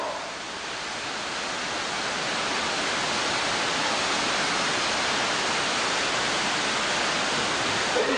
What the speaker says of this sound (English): Across the face of the waterfall.